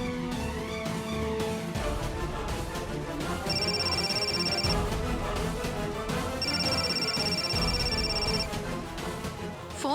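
A telephone rings in a Hindi family drama scene, its electronic tone sounding in two clear bursts over a busy background of music and ambient sound.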